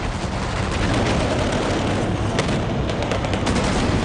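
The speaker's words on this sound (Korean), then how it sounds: "해병대 기동타격소대 워피그2가 치고 빠지는 맹렬한 총격전에 휘말려들었다" Dense gunfire rattles continuously in a firefight between Marines and insurgents in Iraq's Euphrates valley, with overlapping bursts and shots forming a loud, unbroken wall of noise.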